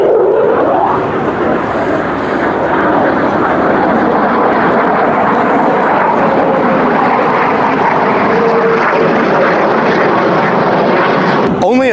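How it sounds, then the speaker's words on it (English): An F-22 fighter jet passes over an outdoor off-road Jeep event in Panama City, Florida, a loud continuous roar that dominates for the whole stretch before cutting off abruptly. "Only at Florida Jeep Jam do you get an F-22 flyover."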